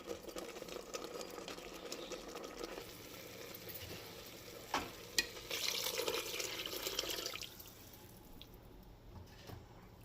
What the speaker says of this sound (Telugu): ఇప్పుడు మనం కొంచెం వాటర్ పోసుకుందామండి.